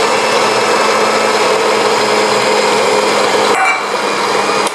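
An electric mixer running steadily on low speed while flour is added for a grain and muesli cookie dough, a loud, close, continuous motor whine that shifts slightly in tone near the end.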